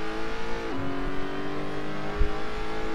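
A light race car's engine in the Assetto Corsa driving game pulls steadily with a smooth, sustained drone. It dips briefly as if shifting gear, then holds on, with no voices over it.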